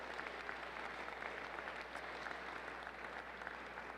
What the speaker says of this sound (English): So let's give them a big round of applause if we can